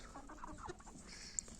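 Adler chickens cluck in a short run of soft, close calls, faint overall with a quiet farmyard background.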